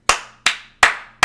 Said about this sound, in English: I just stood up and started clapping violently